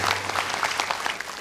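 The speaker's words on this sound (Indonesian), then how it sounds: "Boleh tepuk tangan untuk ayahnya Aida" Studio audience clapping for a contestant's father on the Hafiz Indonesia television show, a brief, moderately loud patter of applause lasting about a second and a half.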